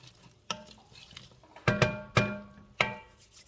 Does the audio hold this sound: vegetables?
yes